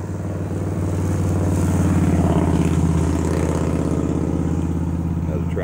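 Road traffic passing close by, a loud continuous engine drone and tire rumble that builds slightly and holds steady for several seconds, with no speech over it.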